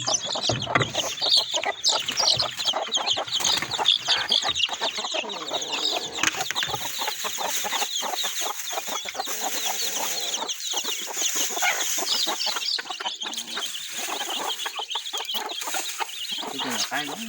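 Chickens clucking close by, a dense, continuous chorus of overlapping clucks and squawks lasting the whole stretch, with little else heard.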